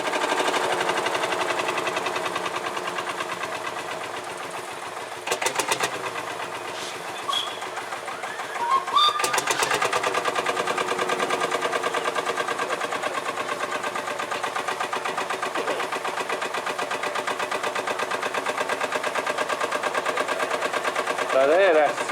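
A Field Marshall tractor's single-cylinder diesel, cartridge-started at an outdoor vintage steam show arena, chugs in a rapid, steady rhythmic beat for the whole stretch, with a few sharp bursts and a commentator talking over it.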